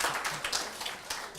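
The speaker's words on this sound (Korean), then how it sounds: "박수를 치셔야 되지 않을까요?" Audience clapping at a lecture in a hall, a brief, fairly faint scatter of hand claps without any voices.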